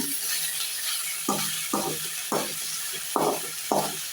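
Greens for ragi adai being sautéed in a pan, a bright sizzle with five rhythmic stirring scrapes spaced about half a second apart, close and clear.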